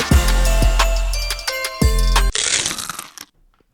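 Loud, close crunching bites into a thick Starbucks snowman sugar cookie with heavy frosting, a few sharp crunches followed by chewing that fades out.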